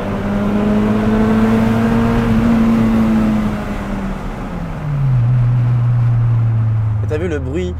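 Renault Clio 2 RS engine and exhaust drone steadily and loudly nearby, the pitch holding then dropping as revs ease off, with a brief burst of other noise at the end.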